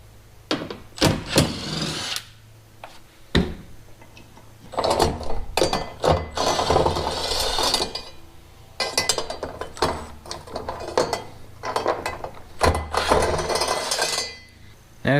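A ratchet loosening four 10mm bolts from the spare tire mount of a Jeep XJ: bursts of rapid metallic clicking and clinks, close and fairly loud, separated by short pauses.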